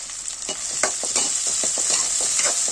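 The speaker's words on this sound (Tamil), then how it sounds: "நல்லா ரெண்டும் மிக்ஸ் அளவுக்கு கிண்டி விடுங்க" Chopped onion and tomato sizzle steadily in a hot pan while a spoon scrapes and stirs through them in repeated strokes.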